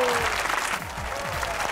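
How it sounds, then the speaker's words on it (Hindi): A studio audience on a comedy talk show applauds in a steady, moderately loud wash of clapping, with a voice briefly audible under it. "तो आज नहीं रखेंगे अपने हाथ आप दूर, बजाएंगे तालियां"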